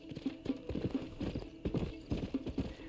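Horse hooves clip-clop steadily in Red Dead Redemption, a brisk rhythmic trot heard close and clear with no talk over it.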